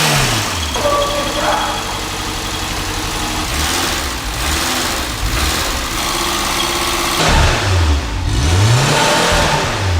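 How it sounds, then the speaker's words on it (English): Car engine running after milk was poured into it in place of oil, idling with a rough mid-pitched drone and several revs that swell and fall, loud and close, with people talking over it. "This engine is not going to live long. But it started. It just had no power."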